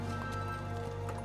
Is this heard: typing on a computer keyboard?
no